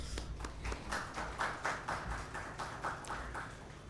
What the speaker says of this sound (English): Please welcome her with applause.